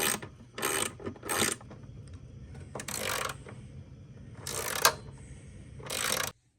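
Ratchet wrench tightening bolts from beneath a table saw being converted into a router table combo, giving repeated bursts of rapid clicking ratchet strokes, close and fairly loud, separated by short pauses with no talking.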